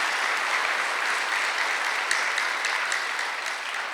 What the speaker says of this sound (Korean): 믿는 사람만 박수 하나 돌려보세요